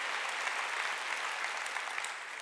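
A church congregation at a Sunday worship service claps hands in a dense, steady round of applause that stays even for a couple of seconds before easing slightly at the end.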